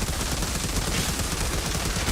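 Sustained, dense gunfire from the Outriders video game, a continuous rattling barrage of rapid shots that stays loud and steady throughout without a break.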